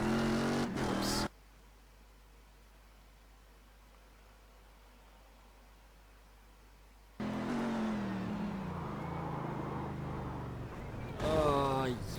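Race car engine in the iRacing sim, a steady harmonic drone with rising pitch sweeps as it revs, loud in short bursts at the start and end, with a long hushed gap in between.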